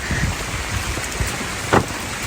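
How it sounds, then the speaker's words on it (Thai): Rain falls on the forest trail to Kong Kaew waterfall in Khao Yai, a steady broadband patter over flowing water, with one louder splash or knock near the end. "โอ้ฝนตก"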